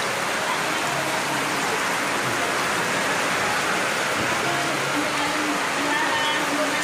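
Heavy rain pours outside a house, a dense, constant roar of falling water that stays loud and unbroken throughout, with faint voices in the background.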